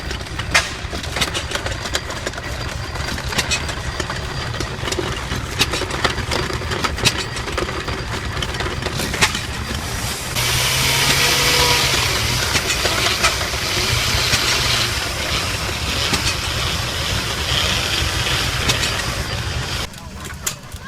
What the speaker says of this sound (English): an old engine that was doing apple grinding